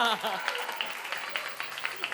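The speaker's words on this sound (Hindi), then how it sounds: "जबरदस्त भाई, तालियां।" Scattered audience clapping at a televised game show, a thin patter of claps under a voice that starts the moment.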